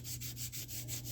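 Rhythmic back-and-forth strokes of wet sanding with 800 grit sandpaper on oxidized plastic from an ATC200x, a steady close-up rasping scrub pulsing about six times a second, alone with no voices.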